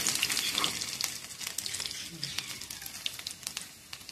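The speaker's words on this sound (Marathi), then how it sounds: "मोहरी टाकली, जिरे टाकले, लसूण टाकून घेऊ." Mustard seeds, cumin and garlic frying in hot oil for a Maharashtrian methi fry, giving a steady close sizzle with scattered crackles and pops throughout.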